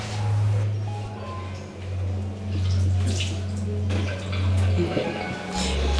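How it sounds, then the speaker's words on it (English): Hands being washed under running water, a steady close stream with faint splashes and drips that cuts off near the end, with no clear speech over it. "Just wash your hands."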